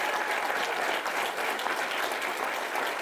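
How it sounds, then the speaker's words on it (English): Steady, dense applause from an audience at a convocation, greeting the Southwest Jazz Band. The clapping stays even and continuous throughout, with no voices on top of it. "Let's give them a round of applause."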